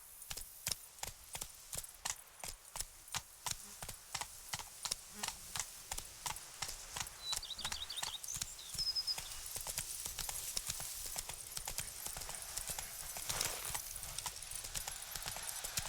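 A horse in The Witcher 3: Wild Hunt trots in with steady, rhythmic hoofbeats that grow closer and busier, with a faint whinny partway through.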